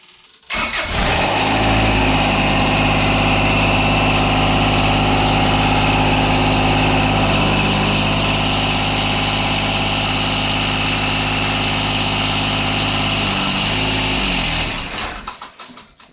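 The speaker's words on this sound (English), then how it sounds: "I'm going to go ahead and raise up my loader." A Kubota BX compact tractor engine starts and runs steadily, loud and near, with the hood off while the front loader is raised, then cuts off at the end.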